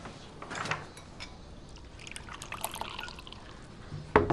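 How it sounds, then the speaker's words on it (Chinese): Water poured for drinking trickles and splashes softly in an indoor room over a few seconds, with a brief clink near the end. "那你自己倒水喝吧"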